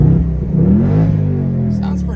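A rebuilt, once-wrecked 2024 Ford Mustang GT on its stock exhaust revs close by with a deep engine tone that climbs and then settles into a steady idle-like drone.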